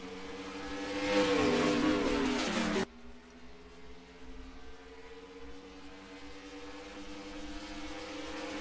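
NASCAR Racing 2003 simulation race cars at the green flag on Texas, a loud rising engine roar from the pack that cuts abruptly to a steadier, droning multi-car hum.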